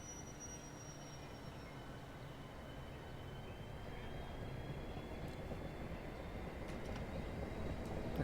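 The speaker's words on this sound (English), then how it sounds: "And train departs." A Class 465 electric train pulls away from a station in Train Sim World on the Southeastern London Victoria to Orpington line, a steady broad rolling rumble that builds slightly as it gathers speed, with no voices.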